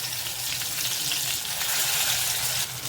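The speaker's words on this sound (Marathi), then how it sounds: "सर्व वाटून टाकलं मी आणि तेलावर त्याला परतून घ्यायचं आहे" Steady, dense sizzling of ground spice paste frying in oil for Malvani mandeli fish curry, continuous and close, with no voices.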